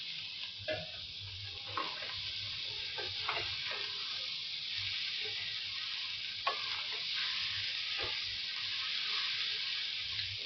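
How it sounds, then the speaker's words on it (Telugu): Chopped cabbage frying in a pan makes a steady, close sizzle, with scattered soft scrapes and taps of stirring on top. "కోసి పెట్టుకున్న చిన్నగా ముక్కలుగా చేసుకున్న క్యాబేజీని దీంట్లో వేసేయాలి"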